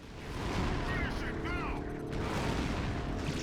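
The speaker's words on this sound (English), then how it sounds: "Let the grenades do all the work for me." Grenade blasts in GoldenEye: Rogue Agent, several muffled booms in quick succession under steady game noise and music, with a voice talking over them.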